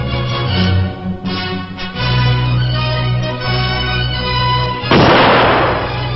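Loud booming blasts of a cannon salute rumble under a dense, continuous wash of noise, with a sharp heavy burst near the end.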